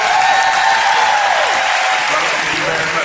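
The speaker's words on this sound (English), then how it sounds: "Everybody give them a round of applause." An audience applauds loudly and steadily in a hall, a dense wash of clapping up close, with a voice calling out over it.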